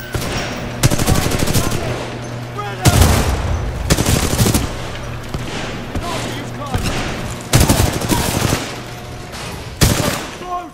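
Bursts of machine gun fire in the shooter game Titanfall 2, several loud, rapid stretches of repeated shots separated by short gaps, close and sharp, with a voice talking in between.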